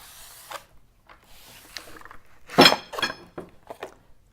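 Metal pipes from a tiki torch stand clink and knock together as they are handled, with a few scattered taps and one louder clatter in the middle.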